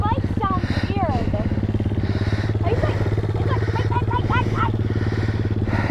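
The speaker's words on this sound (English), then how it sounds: "My bike sounds weird." Dirt bike engine running steadily with an uneven, off-sounding note, loud and continuous throughout, with a voice speaking over it.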